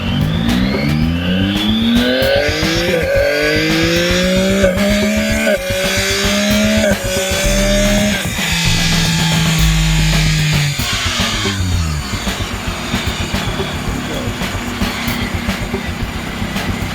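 A Yamaha R9 motorcycle on a dyno screams up through fifth gear with the quick shifter, the engine pitch climbing in repeated stepped rises before the loud revving ends and fades into a lower drone.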